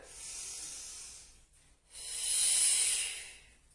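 Two long, breathy exhales during a Pilates exercise, close and clear, separated by a brief pause, with no talking.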